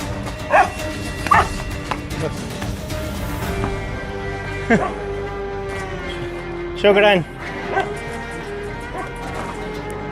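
Several street dogs in Egypt bark and yelp in short, loud bursts, some close and some farther off, while someone talks over them and a steady hum runs underneath.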